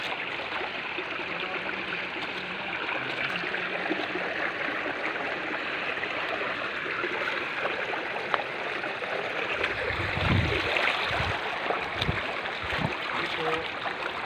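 A small waterfall with weak flow, a steady broadband wash of falling and trickling water heard close, with some low thumps and handling noise near the end.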